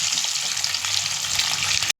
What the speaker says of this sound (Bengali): কড়াইতে তেল গরম করে আস্তে আস্তে আমি ডিমগুলোকে দিয়ে দিলাম।